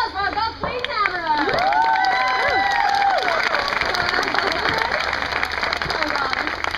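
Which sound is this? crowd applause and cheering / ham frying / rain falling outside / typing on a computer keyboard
crowd applause and cheering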